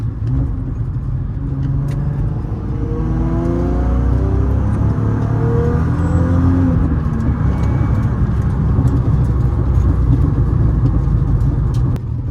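An R32 car engine accelerates in third gear with a deep, steady rumble that rises gradually in pitch as the revs climb, loud and close from inside the car.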